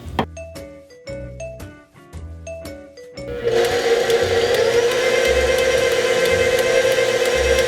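A kitchen blender mixing cake batter. A few electronic beeps come first, then the motor starts and holds a loud, steady whirring drone for the rest of the clip, close up and with no talking.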